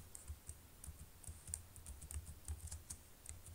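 Keys clicking on a computer keyboard as chapter text is typed into a thesis document, a quick irregular run of light, close taps with a low hum beneath and no talking.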